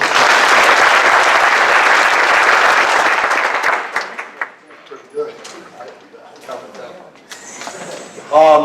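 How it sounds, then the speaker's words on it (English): A school audience claps in a loud, dense burst that lasts about four seconds, then fades into scattered claps, murmuring and talk, ending with a brief louder voice. "how about 10 claps for Mr. Wright?"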